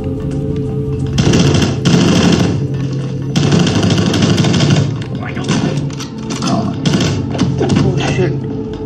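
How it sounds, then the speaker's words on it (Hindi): Gunfire raining down from above in the side-scrolling shooter Rocket Birds 2 Evolution on PS Vita, dense rapid bursts and thuds packed into loud stretches of constant game action with music underneath. "ये ऊपर से गन चला रहा है यार"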